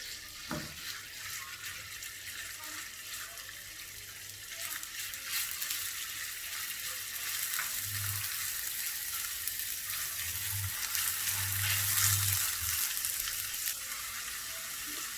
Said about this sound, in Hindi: इसमें चिकन मिंस ऐड करेंगे। मीडियम फ्लेम पे हम इसको फ्राई कर लेंगे।